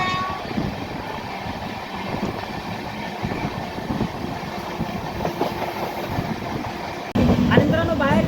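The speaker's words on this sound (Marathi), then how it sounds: "सारोळा रेल्वे स्टेशन मागे टाकत आहे सध्या आपली ट्रेन" Heard from on board, the 11423 Pune–Shirdi Intercity Express races at high speed through Sarola station with a loud, steady rumble of wheels and carriage, then an abrupt shift in the noise near the end.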